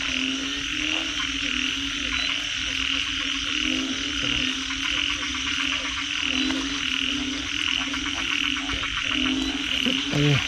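Large frogs full of eggs croak across a flooded rice field on a rainy day, forming a dense, loud, continuous chorus of overlapping rhythmic calls close by.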